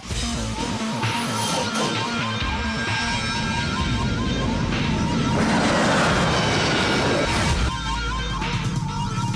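A Y2K turbine motorcycle, a gas-turbine-powered superbike, accelerates hard with a loud, continuous jet-like roar that swells and rushes past, filling the whole stretch without pause.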